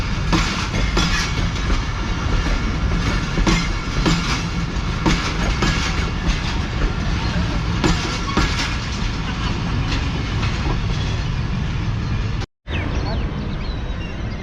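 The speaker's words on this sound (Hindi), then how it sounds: "ये कराकरम पाकिस्तान की टॉप प्रायोरिटी ट्रेन है" The Karakoram Express runs on tracks in Pakistan with a loud, continuous rattling roar and rhythmic clickety-clack of coach wheels, close up, cutting out briefly near the end.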